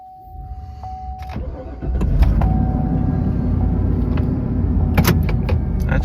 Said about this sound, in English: So let's go ahead and get this baby fired up.